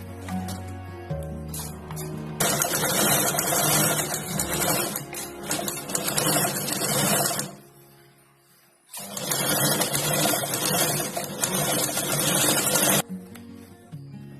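A sewing machine stitches the side seams of a fabric bag lining in two long loud bursts of rapid whirring, separated by a short pause, with quieter handling sounds before and between runs.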